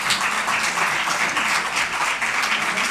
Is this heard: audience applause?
yes